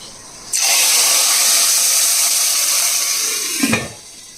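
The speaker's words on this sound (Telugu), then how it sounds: "ఇప్పుడు మనం ఈ తాలింపు తీసుకెళ్ళి పప్పులో వేసేసుకుందాం" Hot talimpu tempering hits cooked dal with a sudden loud, sustained sizzling hiss that rushes on for about three seconds, then ends with a short metallic clatter.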